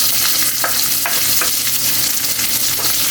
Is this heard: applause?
no